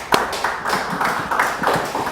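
A church congregation at a Wednesday worship service bursts into applause, a dense patter of clapping hands lasting about two seconds.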